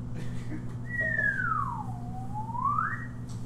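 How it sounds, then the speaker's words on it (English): A slide whistle glides smoothly down in pitch and then back up in one long continuous sweep, heard clearly over a steady low hum. No one speaks. "I use a slide whistle for that part."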